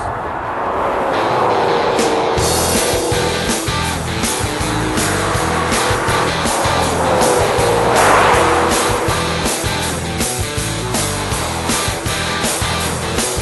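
A 2003 Mercury Marauder driven hard on a race track, its V8 engine roaring loud and close, revving up and down through gear changes, with tire squeal rising through the run.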